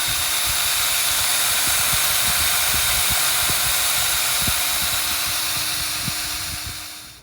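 A power drill whirs continuously at high speed boring a tapping hole into a backyard maple tree, a steady buzzing drone with faint clicks underneath, winding down at the very end.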